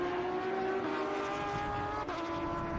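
Race cars, a Porsche and an Audi R8, compete in an IGT feature race at Atlanta, a steady, droning engine whine held at a constant pitch with a brief dip near the end.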